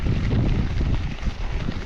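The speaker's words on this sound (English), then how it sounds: "It's windy." Wind buffets the microphone during a mountain bike descent on a hardtail, a continuous low rumbling roar with uneven gusting swells and nothing else clearly on top.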